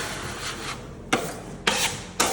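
A drywall knife rasps across joint compound on a flat wall, wiping down taped seams in long steady rubbing strokes, with three sharp scraping passes close by toward the end.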